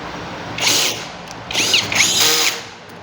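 A power screwdriver drives screws into a 16kWh PC314 battery cell assembly in short, loud whirring bursts, one brief run followed by two longer back-to-back runs, with no talking.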